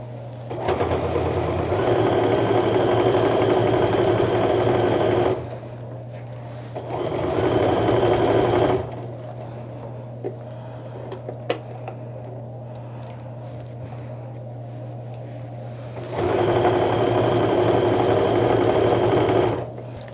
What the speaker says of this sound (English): And just slowly sew to the right of that teeny tiny little triangle.